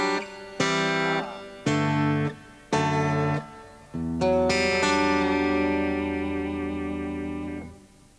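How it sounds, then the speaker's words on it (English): An Ibanez guitar played through its acoustic pickup with reverb, three short strummed chords followed by a long ringing chord that decays slowly into a reverberant tail, with no talking. "let's put a little bit of reverb on it now"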